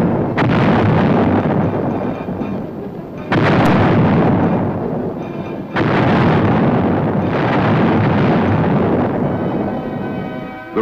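Self-propelled 105mm howitzers fire in a series of loud, booming blasts, each followed by a long rolling rumble, with three or four heavy reports spaced a few seconds apart.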